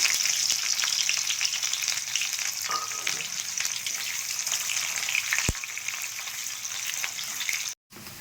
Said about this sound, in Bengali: এই তেলেই পেঁয়াজ কুচি দিয়ে দিচ্ছি।